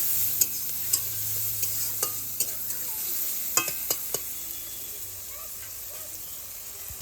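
Onion and tomato frying in oil with turmeric and salt for a village-style hilsa curry, a constant sizzle punctuated by regular sharp scraping strokes of a spatula, close by.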